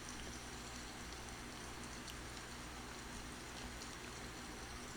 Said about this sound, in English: Doesn't look like the rain's gonna stop.